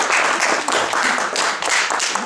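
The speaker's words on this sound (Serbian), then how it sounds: "Ajmo jedan aplauz za ove naše srebrne." Applause at a youth chess league closing ceremony as silver medalists receive diplomas, dense continuous clapping from a crowd in a hall, steady and fairly loud throughout with slight swells.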